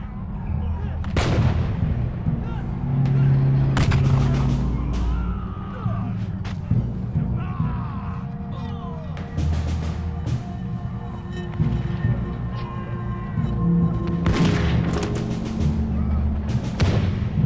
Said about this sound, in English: Oh heavens, they're using the grand mortars!